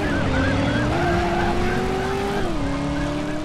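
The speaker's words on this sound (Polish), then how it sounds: "dwa radiowozy za nami jadą" Police cars with wailing sirens chase the player's car in the 1999 video game Driver, the rising and falling siren tones sustained and loud over steady engine rumble and tyre noise, with no talking.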